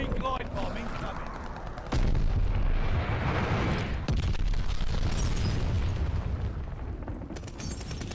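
An enemy glide bomb explodes in a video game amid continuous loud battle noise, with heavy booms, rumbling and gunfire stacked densely together throughout, and the roar surges sharply near the two-second mark.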